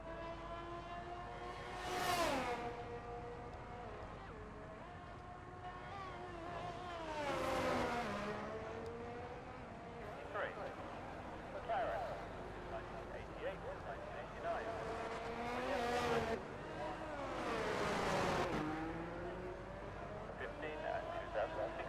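Engines of Formula 1 race cars scream down a long straight at the Mexico circuit in a racing game, several cars passing one after another with rising and falling pitch, while commentators talk over them.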